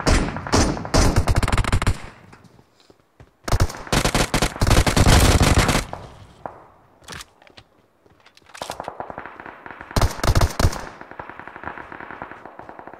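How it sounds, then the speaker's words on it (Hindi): Bursts of automatic fire from an MK-like gun in BGMI, several loud, sharp strings of rapid shots separated by quiet gaps, with fainter shots and footstep-like clatter in between. "ये कौन सी गन है, ये एमके जैसी है।"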